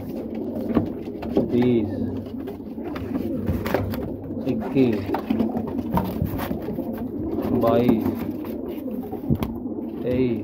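High flyer pigeons coo softly in bursts close by while a man counts aloud over them, with occasional clicks and knocks of handling.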